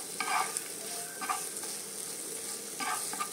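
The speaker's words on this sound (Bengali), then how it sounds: "মশলাটা একটু কষিয়ে নিব" Spice masala frying in oil for a chicken dish, stirred in a pan: continuous close sizzling with several scraping bursts of the spoon at a loose rhythm, no voices.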